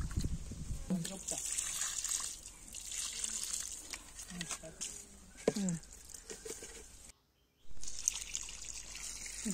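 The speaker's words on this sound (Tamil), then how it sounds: "கரைசல் ஊற்றிய பிறகு தண்ணி ஊற்றணும்." Water trickling and pouring onto young pomegranate plants in a home garden after a groundnut cake fertilizer solution, a soft steady dribble with brief louder splashes, under a person talking.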